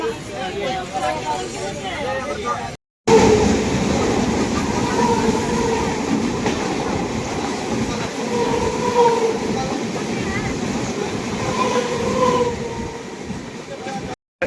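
A passenger train bound for Chhatrapati Shivaji Maharaj Terminus from Howrah runs with a steady loud rumble and rhythmic wheel clatter, heard from inside the coach over passenger chatter.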